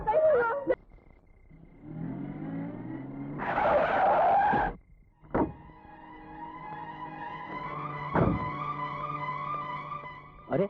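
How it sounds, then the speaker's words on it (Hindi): In a Hindi action-film scene, a car's tires screech sharply as it skids to a sudden halt, with engine noise before the skid and a few thuds and clunks after it. "क्या बात है रघु, गाड़ी क्यों रोक दी?"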